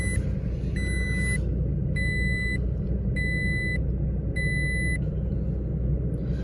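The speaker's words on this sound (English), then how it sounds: "but I will still turn on the vehicle" A 2018 Toyota Tacoma pickup engine runs with a steady, low idling rumble, joined by a series of evenly spaced electronic chime beeps from the cab.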